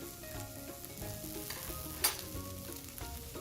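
Minced meat and spices stirred in a hot pan for a potato lasagna, giving a continuous close sizzle with soft scraping stirs and one brief sharper clack, no voices.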